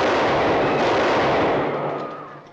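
A firing squad volley in a 1949 film set during the French Revolution, one loud sustained blast that rolls on and fades away with no talking.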